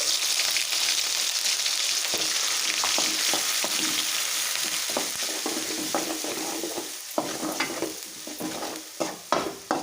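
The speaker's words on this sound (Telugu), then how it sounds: "కొబ్బరి పేస్ట్ కూడా బాగా వేయించుకో వేయించుకోవాలన్నమాట" Onions and coconut paste fry in a pan for a Rayalaseema-style boti curry, a steady loud sizzle with scraping stirs that grow sharper and more frequent toward the end, with no talking.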